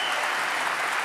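Dense, steady audience applause fills about a second, close and even throughout, cheering a French drift championship car of nearly 700 horsepower.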